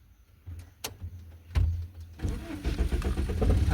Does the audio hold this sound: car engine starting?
yes